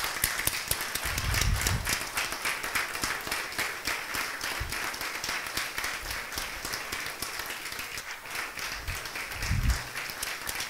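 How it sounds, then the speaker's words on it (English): A church congregation at an anniversary celebration claps steadily in rhythm, a dense, fast patter of many hands that continues throughout, with a few low thumps. "Keep on clapping. Keep on clapping."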